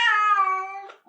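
A cat gives one clear, drawn-out meow indoors, close and fairly loud, with no talking over it.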